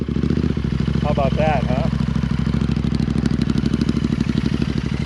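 A Royal Enfield Interceptor 650 fitted with S&S slip-on exhaust pipes runs close and loud with a steady, throbbing parallel-twin engine note. Someone speaks briefly over the engine.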